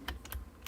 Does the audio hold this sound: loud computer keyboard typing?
yes